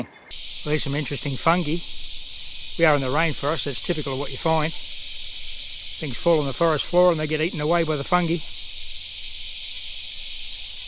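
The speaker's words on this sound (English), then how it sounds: "You can hear the cicadas in the background." Cicadas drone steadily in a rainforest, a continuous high buzzing bed beneath someone talking close up throughout.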